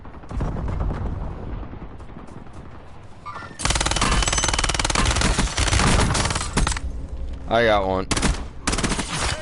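Rapid automatic gunfire rattles through a war-zone video game in dense, loud bursts, after a quieter stretch at the start with scattered shots and game voices; a player's voice and in-game voice lines are heard among the shooting.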